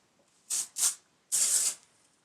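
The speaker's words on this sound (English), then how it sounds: "And I kind of spray the roots, and then I spray all the hair." Ava NYC Surfs Up texture spray hisses out in three close bursts as it is sprayed onto hair, two short puffs followed by a longer spray, alone in a quiet room.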